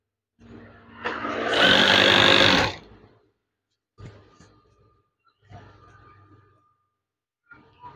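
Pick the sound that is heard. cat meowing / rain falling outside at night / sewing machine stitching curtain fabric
sewing machine stitching curtain fabric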